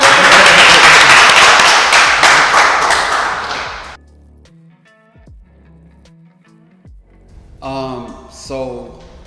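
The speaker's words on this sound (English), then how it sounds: "clap up for the mic, bro" Dense audience applause fills the first few seconds, then cuts off abruptly, leaving sparse thumps and quiet gaps before voices speak near the end.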